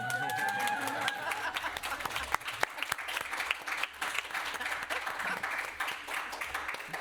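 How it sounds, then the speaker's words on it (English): A small room of people at a board of directors meeting applauds staff with steady clapping that lasts several seconds, while a voice is heard briefly at the start. "I feel like we should applaud people."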